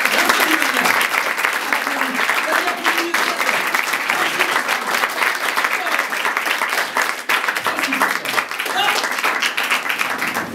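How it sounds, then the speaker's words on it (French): Sustained applause from a theatre audience during a live French comedy stage show, dense steady clapping filling the whole stretch with occasional crowd noise and faint voices underneath. "j'aimerais qu'on l'applaudisse maintenant"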